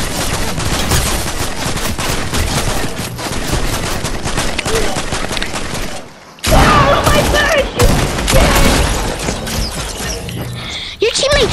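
Rapid gunfire in a multiplayer shooter video game, loud and dense bursts running almost throughout with a brief lull midway, mixed with game effects and talk.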